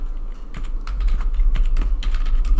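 Quick, uneven keystrokes on a computer keyboard while a Power FX notify formula is typed, close and crisp, with nothing else heard.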